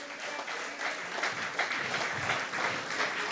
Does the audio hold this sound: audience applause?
yes